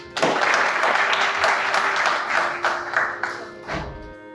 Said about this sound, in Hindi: मैं चाहूँगा कि उनके लिए तालियां हो जाए